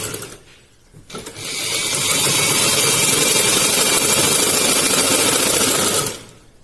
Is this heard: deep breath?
no